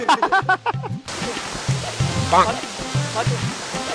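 A waterfall rushes as a constant broadband roar close by, with people chatting over it for most of the stretch.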